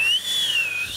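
A person whistles a single sustained, wavering tone that glides slightly up and down, loud and close, with no talking.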